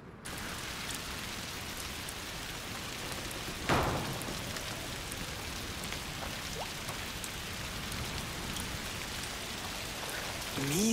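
Steady rain in the video game A Plague Tale: Requiem, a soft continuous hiss of drops on surfaces with a single sharper spatter partway through and no voices.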